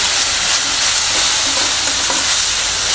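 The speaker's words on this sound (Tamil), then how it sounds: "கேரட் நல்லா வதங்கிட்டுருக்கு." Grated carrots sauté in a hot pan, a loud continuous sizzle with steady stirring and scraping close up, no voices.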